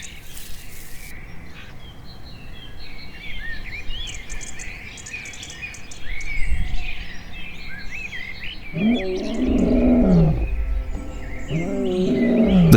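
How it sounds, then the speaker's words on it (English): A lion roars on the savanna. Low, heavy roaring swells up in the second half, over an earlier bed of insect chirring and scattered bird calls, and grows loud and close. "The quiet atmosphere is suddenly broken by the resounding roar of a lion."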